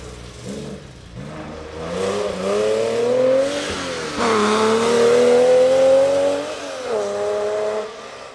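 A Porsche 911 rally car on a gravel stage climbs through its gears, engine rising and dropping in pitch with several gear changes, passing fairly close and loud with no talk.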